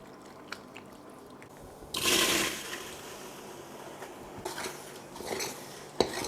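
Water draining from freshly boiled and rinsed pasta being strained in a home kitchen, a brief loud rushing pour with clattering of pots and a colander before and after.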